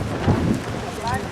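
Wind buffets the microphone in low, rumbling gusts for a brief moment at an outdoor girls' soccer match, with a faint voice in the background.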